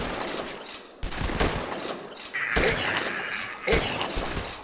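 Rifle gunfire in The Last Stand video game, a handful of sharp separate shots spaced a second or so apart over a low background, moderately loud.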